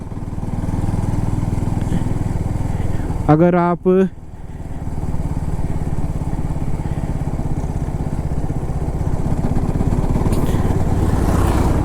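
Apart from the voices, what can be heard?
KTM RC 200 GP Edition motorcycle engine knocking in 5th gear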